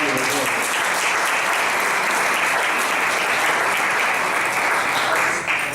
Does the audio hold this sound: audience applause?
yes